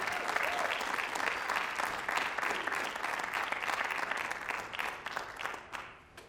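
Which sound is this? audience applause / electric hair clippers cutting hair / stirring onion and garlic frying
audience applause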